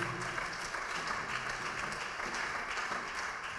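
A church congregation at a French-language worship service applauding and cheering, a continuous wash of clapping at moderate distance that holds steady throughout.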